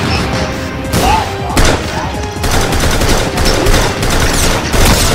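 Rapid gunfire in the Roblox shooter Arsenal, dense bursts of synthetic shots and automatic fire repeating throughout, loud and busy with layered game effects.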